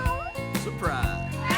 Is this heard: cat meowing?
yes